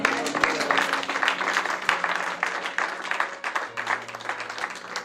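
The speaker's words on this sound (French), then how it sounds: "Est-ce qu'on peut acclamer le Seigneur?" A church congregation applauding and cheering, with dense, continuous clapping that fills the room and a few voices raised in the crowd.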